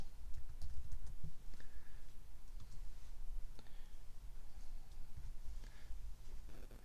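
Someone types on a computer keyboard while entering data into an Excel spreadsheet: a steady run of light clicky keystrokes over a low background hum, with no speech.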